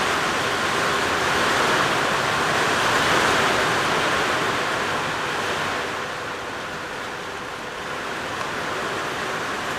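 Heavy rain pours down steadily as a dense, continuous hiss, loud and close throughout with no talk, swelling slightly early on and easing a little toward the end.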